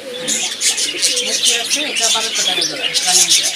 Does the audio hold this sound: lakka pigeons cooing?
yes